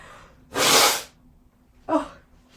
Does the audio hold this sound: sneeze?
yes